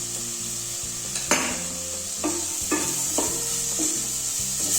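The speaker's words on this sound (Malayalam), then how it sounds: "ഈ കോൺഫ്ലോറിന്റെ ആ ഒരു പച്ച ടേസ്റ്റ് ഒന്ന് പോണ വരെ നന്നായിട്ടൊന്ന് ഇളക്കി കൊടുക്കാം" Cornflour being stirred into a chicken stew cooked in coconut milk in a pan, with steady sizzling and several distinct scraping spoon strokes against the pan, close and moderately loud, no talking.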